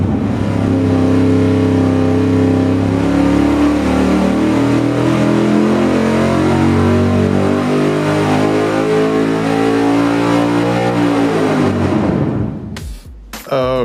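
A car engine with a 4.7 swap and adjusted valve lash revs up hard on a dyno, a loud rising roar climbing steadily in pitch for about twelve seconds before abruptly dropping off as the throttle closes.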